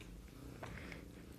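A house cat purrs softly and steadily at close range, a low continuous rumble with no talk over it.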